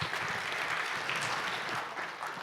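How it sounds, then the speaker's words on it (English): Steady applause from a conference audience welcoming a speaker to the stage, dense even clapping throughout at moderate level with no voices over it. "Applause."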